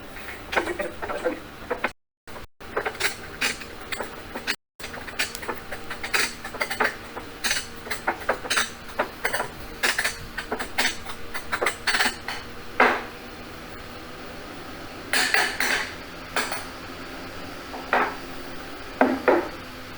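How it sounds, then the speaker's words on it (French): A potato masher or fork crushes soft avocado flesh in a bowl, giving a run of quick, irregular clicking and tapping strikes against the dish, close and fairly crisp, with short pauses between bursts and no voices. "vous allez prendre votre écraseur à pommes de terre ou à patate ou de fourchette et vous allez écraser la chair"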